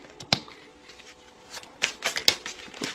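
Tarot cards shuffled by hand at close range, a quiet run of rapid riffling flutters and soft slaps with a few sharper snaps, with no talking.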